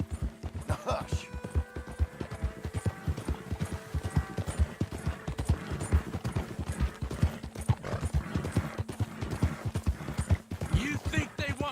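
Horse hooves clip-clopping in Red Dead Redemption 2, a quick, steady rhythm of close hoofbeats running throughout, with a whinny early on and tonal game sounds layered above.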